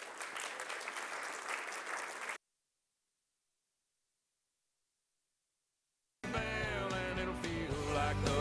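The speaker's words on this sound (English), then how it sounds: "Let's give them a big round of applause." Audience applause at a panel event on global hotspots and flashpoints, loud and dense for about two seconds, then near silence, before a burst of music and noise returns at the end.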